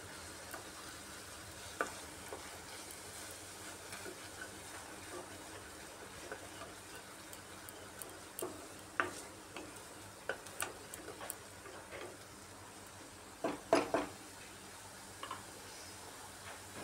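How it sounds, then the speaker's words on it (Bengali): Spice masala with meat masala frying in oil in a pan while being stirred for an egg pulao, a faint steady sizzle broken by scattered spoon scrapes and clicks, one cluster of louder knocks near the end. "ভালো করে কষিয়ে নিতে হবে যাতে মশলা থেকে তেল ছেড়ে আসে"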